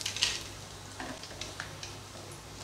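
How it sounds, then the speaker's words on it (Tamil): Cinnamon, cloves and cardamom sizzle in hot oil and ghee with a faint, steady crackle. A brief stronger burst comes right at the start, then the sizzle settles into a quiet hiss. "எண்ணெய் வந்து ஹீட் ஆகிடுச்சு. இப்போ பட்டை கிராம்பு ஏலக்காய் சேர்த்துடலாம்."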